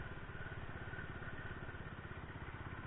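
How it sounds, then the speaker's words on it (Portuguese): A motorcycle engine under light throttle in second gear, holding a steady, even low rumble with a faint mechanical clatter, close and continuous with no talk. "A moto tá indo sozinha, ó. Tô numa pequena aceleradinha."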